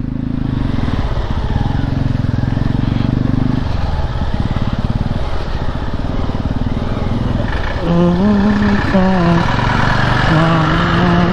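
A motorcycle rumbles along a mountain trail on the way from Tal Manang toward Green Lake, its engine loud and close throughout, shifting pitch as it revs and climbs near the end, with talk mixed in.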